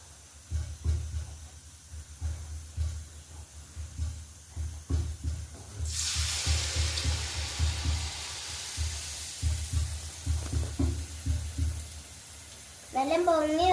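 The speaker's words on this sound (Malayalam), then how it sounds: "നമുക്ക് ഇതെടുത്തിട്ട് എണ്ണയിലേക്ക് ഇടാം." Food dropped into hot oil, a broad hiss of frying and sizzling swelling up midway and continuing steadily, with faint clatter and a voice talking at times.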